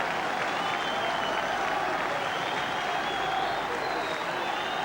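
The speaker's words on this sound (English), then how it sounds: "So that brings a bit of fresh cheer into the St Helens crowd" St Helens rugby league crowd cheering and applauding after a try in a Challenge Cup tie against Featherstone, a dense, steady roar of many voices and clapping filling the whole stretch.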